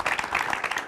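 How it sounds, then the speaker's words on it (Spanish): Audience applause welcoming author Francisco Mouat at a literary talk event, a steady, dense wash of clapping filling the full second without a break. "Démosle un aplauso cariñoso a Francisco."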